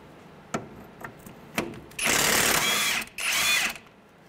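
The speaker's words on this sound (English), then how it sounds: "we're gonna use an impact on the nut" Impact wrench on a front strut nut of a 2003–2011 Honda Element, with a few light taps of tool handling first, then two loud, close bursts of rattling hammering, about a second each, separated by a short pause.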